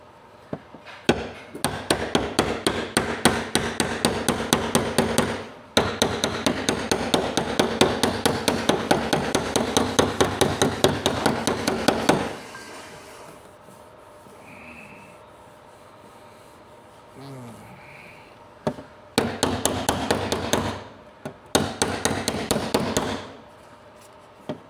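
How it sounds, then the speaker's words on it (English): A hammer knocks down a high spot on a surface being prepped and primed before painting, striking in rapid, loud, steady bursts of close taps separated by short pauses. "So this is just going to knock down that high spot a little bit."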